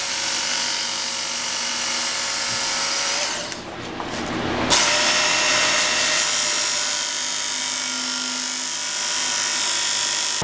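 A power tool grinds against the blade of a garden tool for about a second and a half, a harsh broadband burst that rises over steady outdoor background hum and fades quickly.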